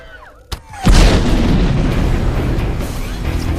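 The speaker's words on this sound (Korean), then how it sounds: "아이언맨 1편의 명장면 중 하나였던 탱크 폭발씬" A tank blows up in a film battle scene, starting with a sharp crack and then a huge loud boom that rolls on as a long, dense rumble.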